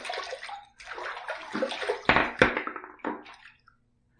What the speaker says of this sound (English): I want a little more water on my face.